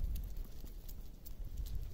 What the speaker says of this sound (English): We're being surrounded on all sides by goats